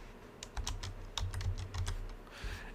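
Fingers tap quickly on a computer keyboard, a burst of crisp, close keystrokes in an uneven rhythm, quiet and alone with no talk.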